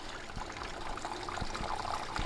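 Water trickles steadily from tree roots into a natural spring pool, a soft continuous flow with faint low knocks and splashes, no voices.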